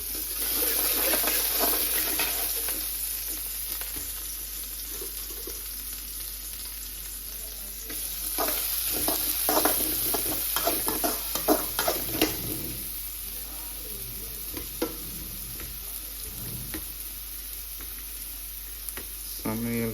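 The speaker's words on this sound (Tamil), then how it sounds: "முதல் வெங்காயத்தை தட்டி விடுவோம்" Chopped onions sizzle in hot oil in a pan on the stove, a loud, close, continuous frying hiss with stirring scrapes and clinks over it.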